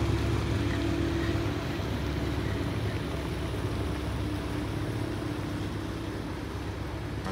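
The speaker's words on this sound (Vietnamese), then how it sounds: "Xà lan hai cabin này nãy giờ chưa có lên được nha." Two-cabin river barge moving downstream, a steady low engine drone with water rush that holds evenly for several seconds, with no talk over it.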